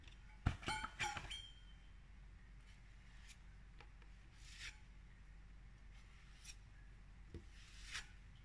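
Auto body filler being mixed by hand for panel repair on a Suzuki Sidekick, with a burst of scraping and rubbing strokes early on, then sparse faint scrapes over quiet workshop background.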